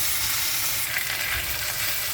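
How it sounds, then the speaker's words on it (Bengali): Beef kala bhuna sizzles in a pan as small splashes of water hit the hot spices, a steady, close, continuous frying hiss with no talking. "অল্প অল্প করে পানি দিয়ে কষায় কষায় করবো।"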